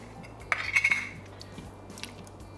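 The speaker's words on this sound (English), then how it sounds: "So let's just stir this all together." A spoon scrapes and clinks briefly against a pot while canned fire-roasted tomatoes and other tomato soup ingredients are stirred together, a short close burst of utensil sounds fading into quiet.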